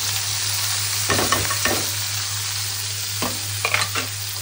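Chopped onion fries in hot oil with a bay leaf, a constant close sizzle over a low hum, with a few clattering stirs of a spatula in the pan.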